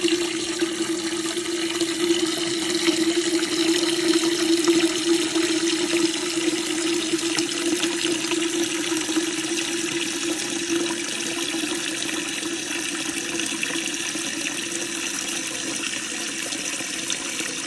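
Water rushes steadily into a Kohler toilet tank as it refills after a fill-valve repair, a constant hissing, splashing flow close by that keeps on without a break.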